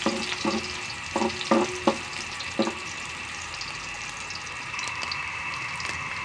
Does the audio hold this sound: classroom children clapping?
no